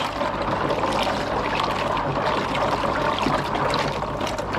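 Koi pond filter media swirled by hand in a tub of pond water to knock off debris, a steady close sloshing and trickling wash with no talk.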